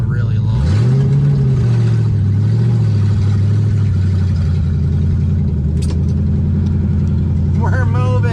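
A Dacia Duster engine runs loud and close as the car pulls away, one rising rev early then a steady mid-pitched drone under the drive, with a dog audible near the end.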